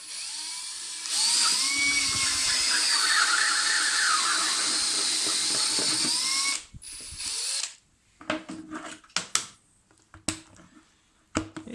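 An adjustable Star M No. 5010AT circle cutter boring a roughly 40mm hole, a steady high grinding whir for about six seconds that stops abruptly, followed by scattered scraping and clicking handling noises.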